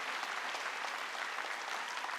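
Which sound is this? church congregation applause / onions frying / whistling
church congregation applause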